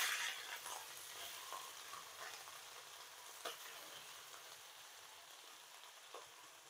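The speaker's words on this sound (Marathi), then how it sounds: "आता तो कोबी आपण ह्या तेलामध्ये टाकूयात." Washed cabbage hitting hot oil for a Marathi-style cabbage bhaji, giving a steady close sizzle with faint crackles and a few sharper pops; no talking.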